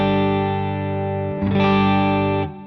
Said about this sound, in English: So the clean boost sounds like this.